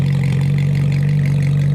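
An exotic V8 engine of the kind found in a Ferrari, McLaren or Shelby GT350 runs at a steady loud hum, a strong low droning tone with a rough pulsing texture, no voices.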